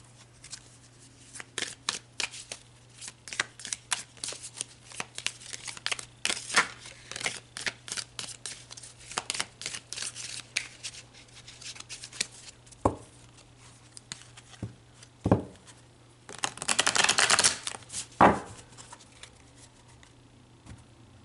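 Tarot cards being shuffled and handled, with repeated riffles and slides, bursts of brisk flutter and a few sharp snaps, close and clear against a low steady hum, no talk.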